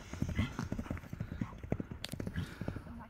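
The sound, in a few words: horse hooves thudding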